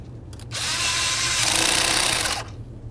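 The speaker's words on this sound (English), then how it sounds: "tighten your 8mm headed clamp" A power tool whirs steadily for about two seconds while tightening the 8mm-headed clamp on the throttle body inlet of a 2007-2013 Chevrolet Silverado 1500 5.3L V8, with quiet workshop noise before and after.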